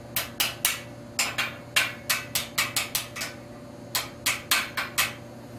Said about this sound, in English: You may have to tap it down a little bit because I've made it tight so it wouldn't collapse